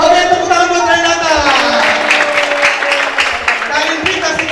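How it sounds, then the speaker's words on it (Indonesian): Children at a Sunday school session clap for a classmate amid lively voices, the applause rising beneath the chatter and continuing as a patter of hands. "tepuk tangan buat Renata"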